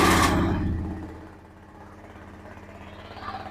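A Honda Beat scooter's small engine catches with a loud burst, then settles into a low, steady idle that keeps chugging evenly.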